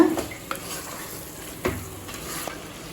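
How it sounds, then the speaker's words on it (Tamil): Chicken sizzles in a hot pan while a utensil stirs and scrapes it, with a few sharp clinks against the metal, close and fairly loud, no talking. "சிக்கன் சேர்த்துட்டு நல்லா வதக்கிக்கலாங்க."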